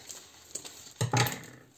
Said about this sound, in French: Je vais découper le scotch.